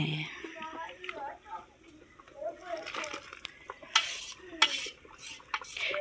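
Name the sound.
stirring gajrela mixture in a pot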